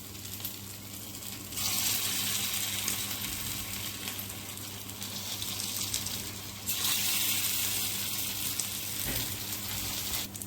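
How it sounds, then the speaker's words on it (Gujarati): Sabudana and potato balls fry in hot oil with a loud, continuous, close sizzle and bubbling hiss that swells twice as more balls go in, with no talk. "તેલ ગરમ થઈ ગયું છે, તેમાં આપણે આ જે બોલ્સ બનાવ્યા છે તે મૂકી દઈશું।"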